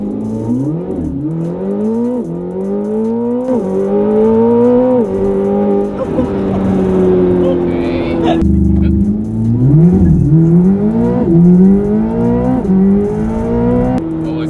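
A Chevrolet Corvette ZR1 launching from a standstill to 60 mph, its engine roaring loud and close as it climbs through rising gear pulls, with short breaks at each shift and a deeper surge after a pause.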